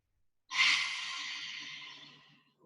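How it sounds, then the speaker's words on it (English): One long, deep breath pushed out through the mouth in a quiet room, close and soft, tapering off over about two seconds. "Inhale, exhale out through your mouth."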